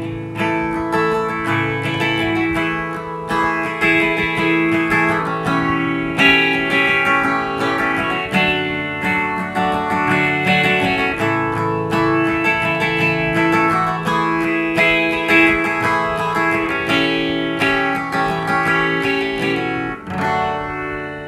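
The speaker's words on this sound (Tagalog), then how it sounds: "So yun yung tunog ng phaser." Electric guitar played through a vintage phaser pedal, its sustained chords and notes sweeping with a slow, wobbly swirl, loud and continuous with no talking.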